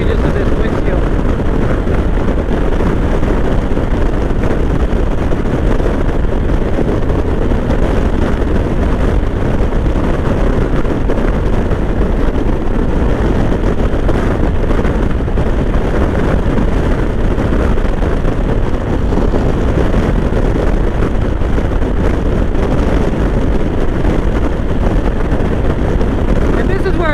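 Honda Valkyrie motorcycle cruising on the freeway at around 95 to 100 miles per hour, a loud, continuous roar of engine and wind buffeting the microphone, steady throughout with no breaks.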